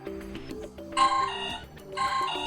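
A BUSH Spira B5 phone plays a ringtone, a short bright electronic melody of chiming tones that repeats in two bursts, clear and alone.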